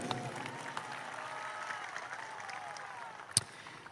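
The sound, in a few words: audience applause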